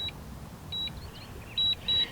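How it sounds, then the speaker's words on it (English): Drone remote controller beeping as a DJI Mavic Air 2 returns home to land, four short high-pitched electronic beeps at irregular spacing, clear against faint background hiss. "you cannot stop the beeping on this"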